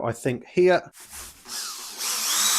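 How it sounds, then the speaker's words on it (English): After a brief spoken remark, a power drill bores a hole in a metal go-kart part, its rising whine growing louder and steadier toward the end. "Now we need to drill the hole for this and get it over here."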